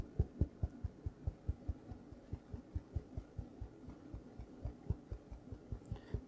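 A 1-inch brush tapping oil paint onto canvas for green foliage, a steady run of soft, muffled thumps at a quick even rhythm, close and quiet.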